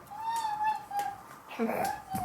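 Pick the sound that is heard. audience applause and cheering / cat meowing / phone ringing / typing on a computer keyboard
cat meowing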